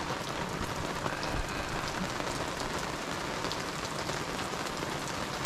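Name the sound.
heavy rain falling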